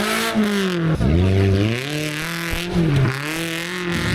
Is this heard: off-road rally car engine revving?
yes